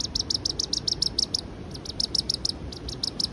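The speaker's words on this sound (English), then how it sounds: "Nervous tweeting." A young Harris hawk on a falconer's glove gives rapid, high, thin nervous tweets in regular runs of repeated chirps, close and clear over low outdoor background noise.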